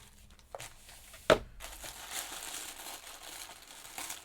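Tissue paper wrapping on a craft box being opened, close crinkling and rustling with one sharp crackle early on, then a steady papery rustle.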